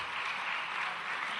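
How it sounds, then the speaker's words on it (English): Applause from a conference audience at a Geoinformation Society of Nigeria event, a dense, steady wash of clapping that holds at an even level throughout, with no voices over it. "A round of applause and maybe a standing ovation for my mentor"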